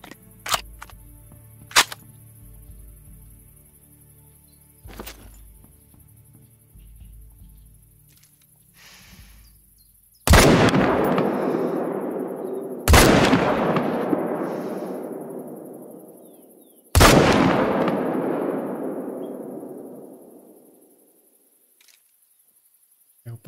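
Three loud, booming gunshots in a video game, each followed by a long decaying tail, with softer clicks and handling noises before them.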